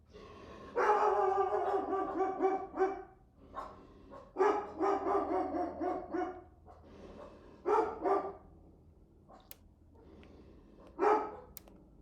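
Several dogs bark in repeated bursts indoors, loud and close, with clusters of barks separated by short pauses and a few higher yips near the end.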